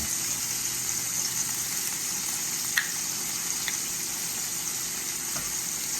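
Shrimp and scallops fry in a pan with a steady, dense sizzle that holds level throughout, broken only by a couple of faint clicks and taps.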